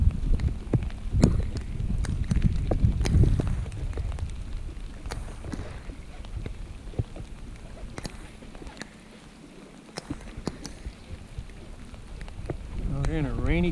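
Steady rain patters on water and a boat at daybreak on a cold morning of fishing in Rangeley, a broadband hiss with scattered drops and occasional knocks throughout.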